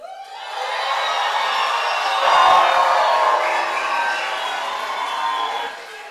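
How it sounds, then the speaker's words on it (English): A graduation ceremony crowd at Waterford Kamhlaba for the IB class of 2023 lets out a loud, sustained cheer with whoops and applause. It swells in the middle and then eases off. "can we also just give them a very loud, huge cheer"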